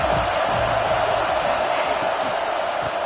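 Stadium crowd noise from a college football game between Ohio State and Indiana forms a dense, steady roar, broad and continuous, with faint cheering and whooping mixed in.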